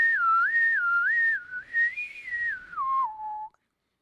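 Someone whistles a short, wavering melody for about three and a half seconds, clear and close, then stops.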